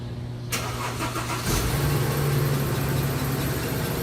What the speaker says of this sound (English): gonna turn it on right now and see if I hear any kind of squeaking